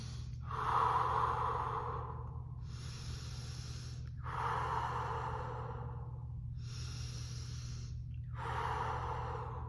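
Slow, deep breathing during a wrist stretch in a beginner core-strength workout: three long, close inhales and exhales in an even rhythm over a steady low hum, with no talking.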